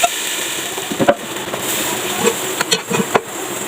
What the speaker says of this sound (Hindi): थोड़ा सा मिक्स करेंगे और निहारी पे बघार लगा देंगे